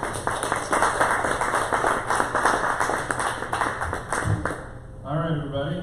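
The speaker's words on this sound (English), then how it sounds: "All right. Round of applause." Listeners at the end of an evening tech meetup talk on functional programming with Elixir give a round of applause, modest and steady in a small room, with a voice speaking briefly as it dies away.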